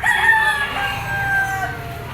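A bull stag rooster at the Lipa auction market crows once in a clear, fairly close, drawn-out call lasting a couple of seconds over a low murmur of background noise.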